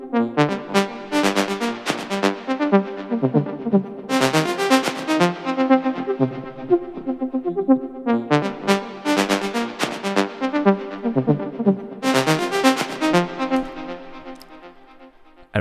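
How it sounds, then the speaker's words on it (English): Synth arpeggio from a Moog Mother-32: a rapid, steady run of plucky repeating notes cycling through four-bar phrases, close and clear with no talking. "It's the ARP, and it sounds like this."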